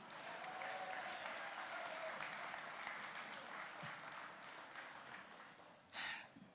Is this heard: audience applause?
yes